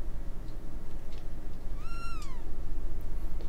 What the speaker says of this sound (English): It's a cat. It's a cat.